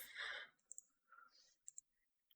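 Sharp computer mouse clicks, several quick pairs and singles, fairly close and crisp in a quiet room, with no talking over them.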